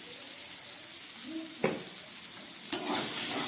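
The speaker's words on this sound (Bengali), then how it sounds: "জিরে, আদা বাটা আর নুন হলুদ দিয়ে আমি মোচাটা কষিয়ে নিচ্ছি।" Banana flower fries in a pan with cumin, ginger paste, salt and turmeric, a soft continuous sizzle marked by two distinct scraping stirs of a spatula.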